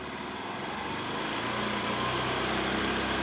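A United 100cc petrol scooter engine revving steadily while its carburettor is adjusted with a screwdriver, a loud close buzzing whine that rises slightly and holds, with no talk.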